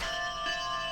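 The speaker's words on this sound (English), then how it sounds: "that bell noise is, as it's just told us, someone leveling up" A single sustained bell chime signals a character levelling up in the video game Nethergate Resurrection, ringing clearly with steady tonal overtones and no talk over it.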